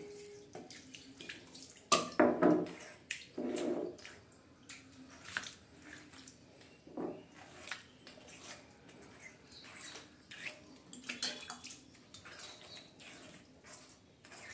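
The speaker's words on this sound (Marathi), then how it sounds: "तर आता आपण पाटा धुवून घेऊ, याच्यातच पाटा धुवून घ्यायचा आहे वाटणामध्ये।" Water splashing and running over a stone grinding slab (pata) as it is rinsed, with uneven sloshing and pouring bursts, near and moderately loud, and no talking.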